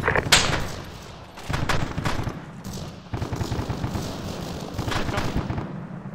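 Dense bursts of automatic gunfire from an Arma 3 firefight, rapid loud volleys that pause briefly near one and three seconds before resuming, sustained rattling shots at mid distance.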